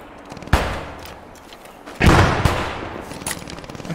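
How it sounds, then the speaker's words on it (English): A machine gun fires in the World War II video game Post Scriptum, heavy booming bursts with a sharp report near the start and a stronger sustained burst midway, echoing in between. "I'm shooting through the windows"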